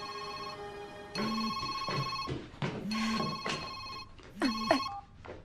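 A telephone rings in a quiet room, sounding three bursts of electronic ringtone separated by short pauses, clear and close with no voices over it.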